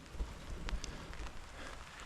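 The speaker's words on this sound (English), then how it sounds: "I think that's it for this rainy day." Steady rain patters on surfaces outdoors on a wet day at a trench dig, a dense, even hiss with a few louder drops, no voices.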